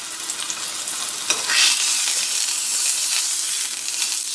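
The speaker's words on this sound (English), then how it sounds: "So I just want to get a little sear started here" Beef searing in a very hot pan for individual Beef Wellingtons, a steady loud sizzle with a sharp clatter near the start, close and continuous with no talking.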